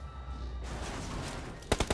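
Gunfire in the battle game PUBG: a steady roar of in-game noise, then three sharp, loud shots in quick succession close to the end.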